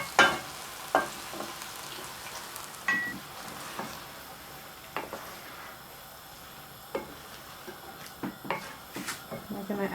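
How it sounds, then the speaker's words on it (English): Vegetable stock poured into a hot pan of quinoa and tomatoes for a Mexican quinoa salad, with a soft sizzle and scattered clinks and stirring knocks of utensil on pan, close and moderate. "Just gonna add in our vegetable stock now."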